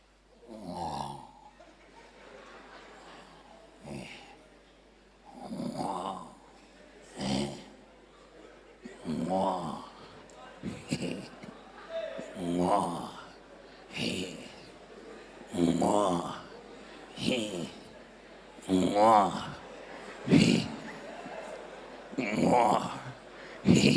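A woman snoring while asleep, with repeated loud, rhythmic rasping breaths about every two seconds, close and alone.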